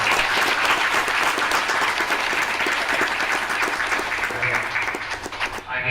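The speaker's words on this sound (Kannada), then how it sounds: "ಎಲ್ಲರೂ ಅತ್ಯಂತ ಹುರುಪಿನಿಂದ ಚಪ್ಪಾಳೆ ಮೂಲಕ ಧನ್ಯವಾದಗಳು" Audience at an event thanking an organiser breaks into sustained, dense applause from many hands, loud and steady before tapering slightly at the end.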